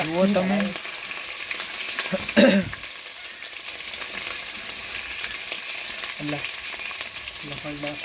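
Garlic and chili fry in oil and are stirred in a pan for a tuver curry, giving a loud, continuous crackling sizzle with scraping stirs and brief snatches of voice now and then.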